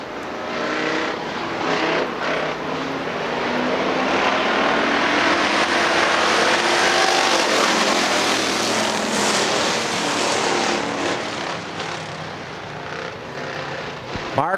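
Factory stock cars racing at Hartford Speedway Park, a loud continuous roar of engines swelling as the pack passes and then easing slightly, with a faint voice in the background.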